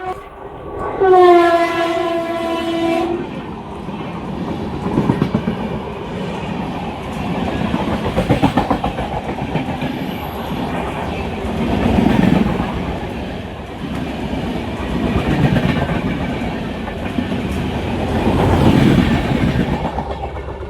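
A passenger train's horn blares at the start, followed by the steady rumble and clatter of rolling railcars that swells and fades over about twenty seconds, on a Kollam to Ahmedabad run.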